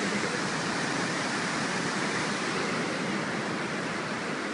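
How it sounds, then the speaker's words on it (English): Water from Coldwater Creek rushes steadily into a lake at its far end, a dense, loud, continuous roar of flowing water heard close and alone, with no voices. "So I'm at the far end of the lake where the water rushes in."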